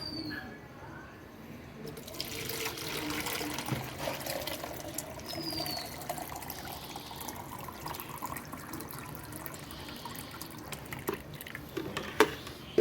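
Homemade liquid fertilizer for a hibiscus plant is poured through a sieve, a soft continuous trickle and patter of liquid close by, quiet and steady with a few faint drips.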